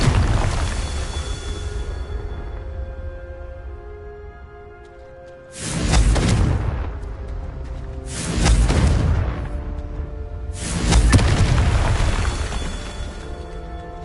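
Three deep, booming blasts from the Confringo spell in Hogwarts Legacy go off one after another, each a loud burst that fades over a background of ambient game music.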